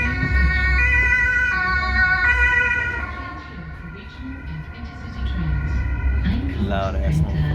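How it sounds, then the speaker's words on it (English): A loud, two-tone police siren wails nearby over traffic noise, with people talking underneath. "Sirens on their police cars are weird,"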